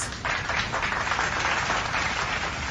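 A dense wash of clapping from a gathering, continuous and fairly even, heard at moderate distance with little talk over it.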